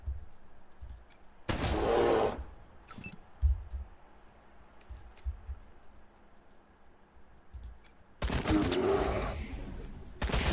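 Gunfire in the video game Wasteland 3: two loud bursts of shots a few seconds apart, each broad and rattling, with faint clicks and a low ambient hum between them.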